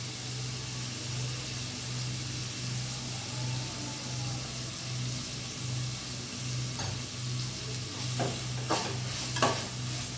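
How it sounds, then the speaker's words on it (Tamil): Thin-sliced onions with salt sauté in a pan, giving a steady low sizzle. A few sharp scraping stir strokes come toward the end, close and moderately loud. "ஆனியன் வந்து நல்லா கோல்டன் கலராக ஃப்ரை ஆகணும்"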